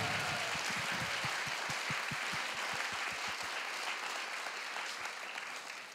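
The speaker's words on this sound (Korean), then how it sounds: "여러분 큰 박수 한번 부탁드리겠습니다." Applause from a studio audience at a Korean talk show fills the clip, loud and dense from start to finish, with a steady run of low thumps beneath it through the first half before it eases slightly.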